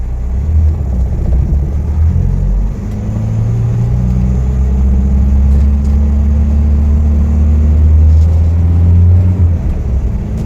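A 1981 Toyota Corolla KE70 five-speed car engine drones steadily while driving, a loud continuous low rumble with slight rises in pitch as it pulls along, no talk over it.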